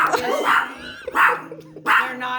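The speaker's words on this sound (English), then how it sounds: "You know what he's barking at? He's barking at my daughter's reflection in the mirror." A dog barks in several loud bursts, about three separated barks with whimpery yips in between, heard indoors close by with faint background voices.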